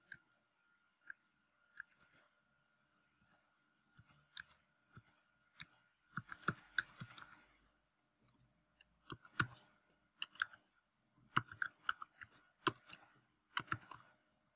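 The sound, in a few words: typing a new patient's surname and name on computer keyboard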